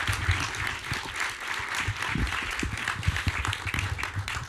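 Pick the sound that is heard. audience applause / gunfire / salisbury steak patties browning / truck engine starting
audience applause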